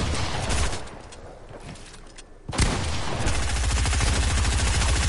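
Automatic weapons fire in a video game arena match, with a loud burst that eases off briefly and then a long, rapid, steady stream of shots close up.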